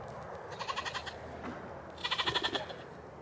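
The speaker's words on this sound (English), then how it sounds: "Silly goat." Dairy show goat giving two short bleats, each a quavering, stuttering cry, heard fairly close over quiet barn ambience.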